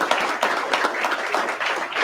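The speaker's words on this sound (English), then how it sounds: "Can we give a round of applause for our hosts," Audience clapping for the hosts of a panel session, a lively, even patter of many hands sustained throughout at moderate level.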